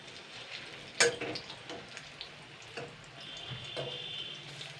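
Banana flower fritters frying in hot oil give off a steady, close sizzle, with a sharp clatter near the start and softer bubbling and stirring noises afterward. No one speaks.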